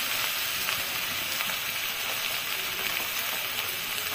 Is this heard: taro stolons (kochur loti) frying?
yes